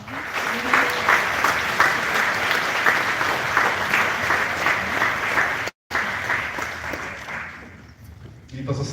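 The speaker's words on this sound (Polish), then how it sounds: "dajcie sobie ogromne brawa" A crowd at a live event claps in loud, sustained applause for several seconds, a brief dropout cutting in before the clapping fades and voices come through at the end.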